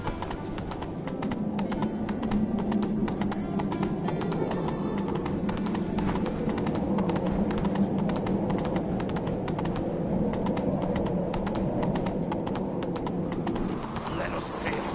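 Roach the horse clip-clops in The Witcher 3, a steady rapid patter of hoofbeats throughout, with voices talking over them.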